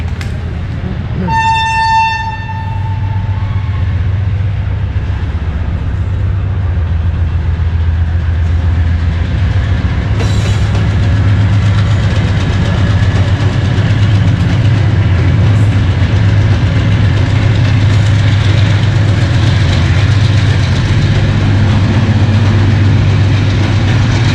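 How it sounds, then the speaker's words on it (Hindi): A train pulls into a station in Pakistan, led by an AG30 locomotive. A short horn blast sounds at the start, then a loud, steady rumble of wheels and cars rolls on close by. "इस वक्त एक ट्रेन आ रही है, पहले वो देख लेते हैं"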